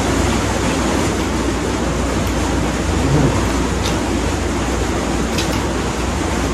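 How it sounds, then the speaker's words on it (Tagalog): Heavy rain falling steadily in a dense, continuous wash, with low thunder rumbling underneath, loud and close with no voices. "Ang lakas ng ulan."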